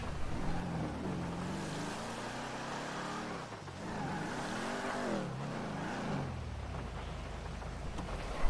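A car engine in GTA Online hums and rises and falls in pitch while reversing into a parking spot, a steady, close motor drone with a few swells of revving.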